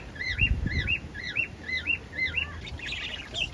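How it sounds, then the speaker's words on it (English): Noisy Australian birds give repeated, evenly spaced rising whistled calls in a steady rhythm, fairly close and loud, with some rustling in the background. "Here are some noisy birds."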